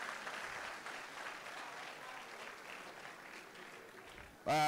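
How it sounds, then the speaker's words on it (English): A conference audience applauds a performer at a biennial national delegates conference, the clapping a faint, steady patter that slowly thins out before a voice cuts in loudly at the end. "We give her another round of applause"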